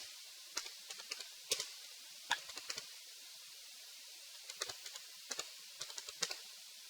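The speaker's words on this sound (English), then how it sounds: "Now type a new description" Quiet, sparse keyboard typing: short bursts of light key clicks separated by pauses, close and soft, with no voices.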